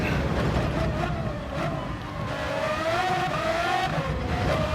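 A race car in Gran Turismo 7, an F3500 A, brakes hard and drops into first gear. The engine note falls and wavers through downshifts, loud and close, with a light tire scrub underneath.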